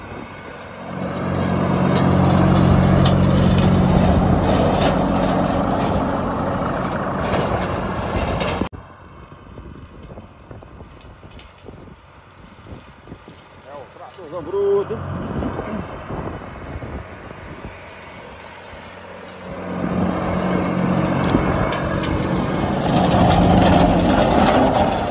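A cab tractor mowing brush in a field in Paraíba runs loud and close, its steady engine drone easing off to a quieter stretch in the middle before rising to full strength again.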